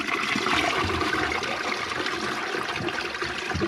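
A dual flush toilet rushes and gurgles in a steady, continuous flush, close and fairly quiet, with no talking.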